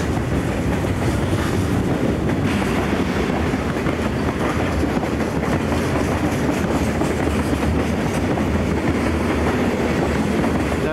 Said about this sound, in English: Barely caught there in time to see the train go by.